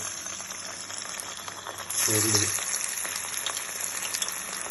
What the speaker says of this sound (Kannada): ಎಣ್ಣೆ ಕಾದೈತಾ ನೋಡುವ, ಒಂದು ಬಿಟ್ಟು ನೋಡುವ.